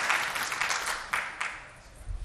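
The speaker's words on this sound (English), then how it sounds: "Give him a round of applause, ladies and gentlemen" An audience at a corporate DevOps conference talk applauding a speaker, a short burst of dense clapping that fades off over two seconds.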